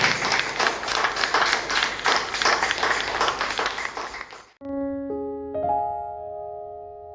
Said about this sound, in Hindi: आइए केवल यीशु मसीह के लिए आप में उत्तम तालियों का अर्पण परमेश्वर को दें।